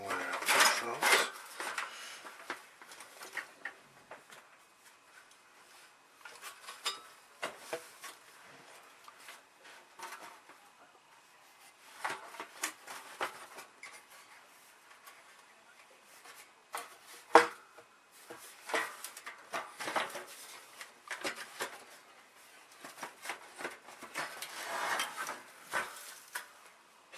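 Intermittent scraping, rubbing and clunking of an Admiral T105AL radio chassis being worked loose and slid out of its wooden cabinet, in scattered bursts of varying loudness up close, with quiet gaps between them.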